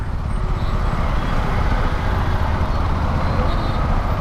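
Heavy road traffic on a busy city street, with a dense, steady low rumble of cars, trucks and buses close by, continuous throughout and with no voices.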